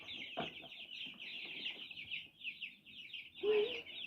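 Twelve-day-old chicks in a stairwell give a steady stream of high, quick peeping, close and fairly faint, with a short louder call near the end.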